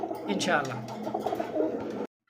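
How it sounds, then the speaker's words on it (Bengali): Lakha pigeons coo inside a cage, a few soft throaty calls rising over a steady background murmur that may include voices, cutting off abruptly after two seconds. "আপনি লাখা কবুতর দেখেন এটা খুবই চটপটে"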